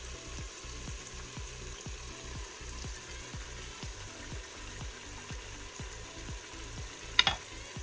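Onions fry and brown quietly in a pan with tomato concentrate, giving a soft, steady sizzle. A regular series of low thumps runs underneath, and a brief sharp clink comes near the end.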